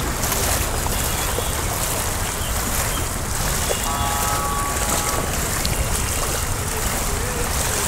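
A car drives through knee-deep floodwater on a street by the main gate of the parliament building in Dhaka, with a steady wash of water and engine rumble alongside wind noise throughout.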